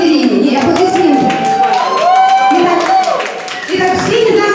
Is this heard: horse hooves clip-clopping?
no